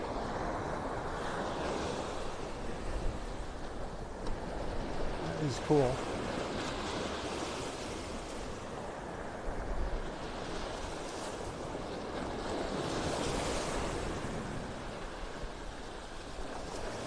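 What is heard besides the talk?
ocean waves breaking on the beach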